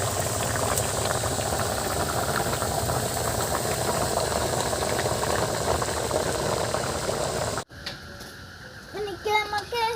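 Bengali fish curry made with fresh sarputi fish bubbling in a pan, a steady loud simmering hiss and crackle that cuts off abruptly near the end, leaving quieter kitchen sounds.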